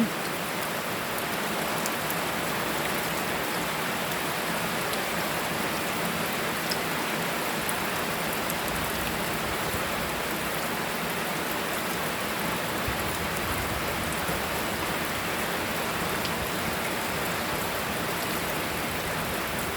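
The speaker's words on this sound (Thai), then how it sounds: "เจอน้ำฝนก็มีแรงโยกใหญ่เลยนะคะน้องลำพูน" Steady rain falls continuously, a dense even hiss of drops on surfaces with no voices.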